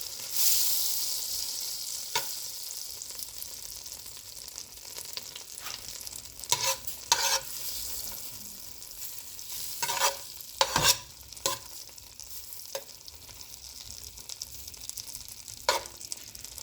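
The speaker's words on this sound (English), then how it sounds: "Just allow your butter to melt." Butter melts in a pot for Jamaican-style turned cornmeal and steamed fish, a quiet hiss under scattered, irregular clicks and scrapes of a utensil against the pot, close and without talk.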